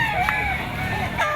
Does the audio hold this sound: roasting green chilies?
no